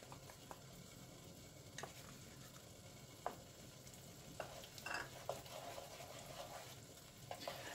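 A bacon cream sauce with sour cream and mustard simmers and sizzles softly in a pan, with occasional light stirring clicks and scrapes, fairly faint and without voices.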